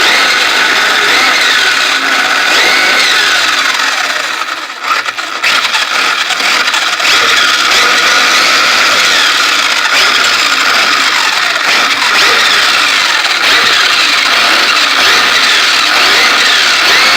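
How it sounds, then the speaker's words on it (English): Small electric motor on an MBX7 eco RC buggy revving in repeated throttle bursts, a steady high whine with a brief dip partway through, close and loud with no talking. "So squeeze the throttle a few times so you guys can see it."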